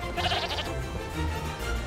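A black sheep in an animated film bleats briefly and fairly close, its wavering cry standing out over a soft background with no talking.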